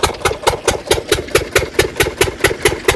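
An engine runs at Bhavanisagar dam with a shaking drive belt, giving a steady rhythmic thumping about four beats a second over a continuous mechanical hum, close and loud with no talk.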